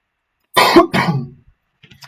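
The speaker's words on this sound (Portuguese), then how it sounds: "Tô com tosse aqui, perdão" A person coughs twice in quick succession, close and sharp, followed by a faint throat sound and near silence.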